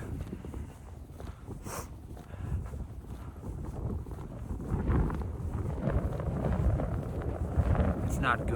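Wind blows steadily outdoors, a broad rushing roar with gusty buffeting on the microphone that builds toward the end, while a voice speaks over it.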